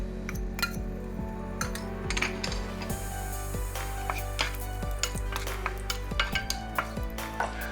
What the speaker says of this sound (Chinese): 蒜头放进去炒香